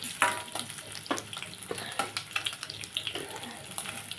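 Dried anchovies sizzle and crackle in a frying pan as they are stirred, with scraping sounds and a faint running tap in the background.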